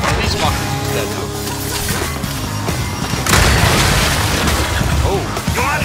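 Explosions from exploding enemies in a Gears 5 Horde Frenzy match go off as booming bursts amid dense, continuous game noise, with a heavier surge of blasts midway and talk over the top.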